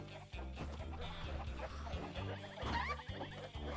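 Chickens clucking in the Shrek 2 video game, a busy run of close, repeated clucks and squawks layered over game music, with one louder squawk near the end.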